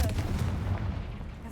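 The Confringo explosive spell goes off in Hogwarts Legacy, a dense, loud blast with a booming low rumble that fills the whole moment and slowly eases off.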